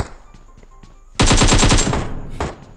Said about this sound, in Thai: มีเสียงปืนยิงกันอยู่ เพียบเลย